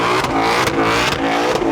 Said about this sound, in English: with my foot on the brake, spike the tires, and then I'll quickly come back onto the brake.